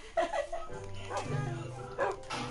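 Dogs in Minecraft survival play, giving a few short yips and barks mixed with whimper-like tones over a steady game hum.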